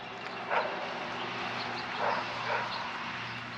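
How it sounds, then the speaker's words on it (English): A dog riding in the back of a Cummins diesel truck in Wyoming barks three times, fairly far off, over a constant roar of wind and road noise. "The dog in the back of that Cummins diesel is just having a time, barking his head off in the wind."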